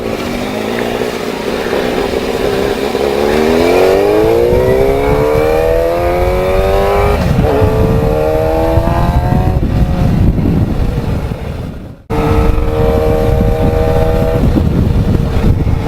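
A Yamaha FZR 600 sport motorcycle with an aftermarket exhaust revs hard and climbs in pitch, then rises again after a brief cut, with a loud, raspy exhaust throughout.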